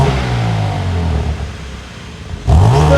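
A car with a valved sports exhaust, valves closed, blips its engine: a rumbling idle, a dip, then a sharp rev rising in pitch near the end, close and loud with no talking.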